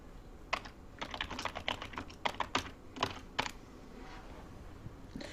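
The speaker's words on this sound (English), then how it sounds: "You can hear me typing." Quick clusters of keyboard key clicks rattle along in uneven bursts, then trail off into quiet room noise.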